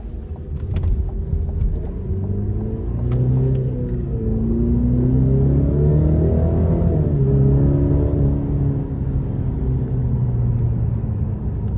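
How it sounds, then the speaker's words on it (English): Engine and exhaust of a 2021 Cadillac CT5 Premium Luxury with the 2.0-liter turbo, a steady low rumble while driving on the road, swelling slightly mid-way, close and continuous with no talk. "Even with just the 2-liter turbo, the exhaust just sounds great. The engine sounds great."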